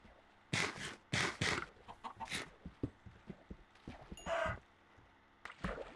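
Chickens in a video game cluck in quick irregular bursts, some loud and close, others softer, with short gaps between calls and no talking.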